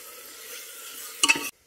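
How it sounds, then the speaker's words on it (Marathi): Tomato being stirred into rasam in a hot pan, a soft continuous sizzle with a short burst of louder scraping and stirring near the end before it cuts to silence. "त्याच्यामध्ये टोमॅटो थोडंसं त्याला मिक्स करायचं"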